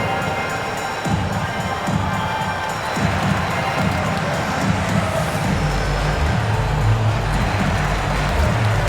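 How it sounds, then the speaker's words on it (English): Arena crowd noise from an NBA 2K23 basketball game, Washington Wizards at Indiana Pacers, a steady dense roar of cheering that swells slightly toward the end, with rumbling low tones underneath and no break. "Here come your Indiana Pacemates crowd."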